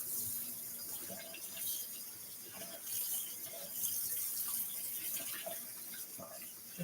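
Water runs steadily from a kitchen sink tap while someone waits for it to heat up, a continuous faint hiss and splash lasting throughout without any speech.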